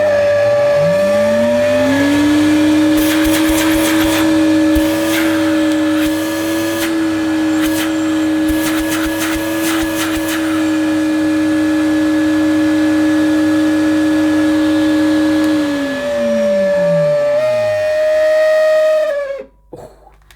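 A 1980s Hoover Sensotronic System 30 vacuum cleaner motor runs up to a loud, steady whine, holds it with a few clicks, then winds down and cuts off near the end.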